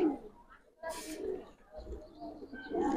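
Red pigeons coo in a few soft, low bursts close by, with a brief brighter flutter or rustle in the middle; no one speaks over them.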